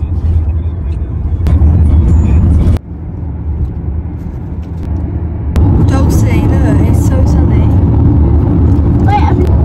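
A car interior on a UK road trip, with steady low road rumble and engine drone throughout and a brief dip partway through. People talk over the noise.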